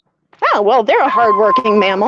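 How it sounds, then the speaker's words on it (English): A small dog gives a few high, squeaky yips and whines over about two seconds, heard close and mixed with a person talking at the same time. "Oh, that was a dog with a really high, squeaky voice."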